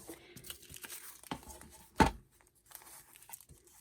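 Deli paper tears with a brief crisp rip and light crinkling, faint and close, one sharper tearing burst standing out among soft rustles.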